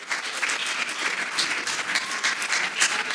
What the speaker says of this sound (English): Round of applause for Carly Pledge, Global BDM from Cloud Call.